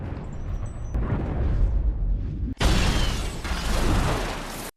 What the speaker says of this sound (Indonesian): Ledakan besar menghancurkan Omega, dan dunia pun sunyi.